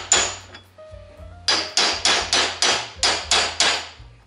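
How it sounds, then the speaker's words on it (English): A wheel bearing race on a 1965 Mustang is tapped in with a hammer on a socket, one sharp metallic strike followed by a quick run of eight evenly spaced ringing blows, close and loud. "I'm going to sit my socket on there, and I want to tap just around to get it started."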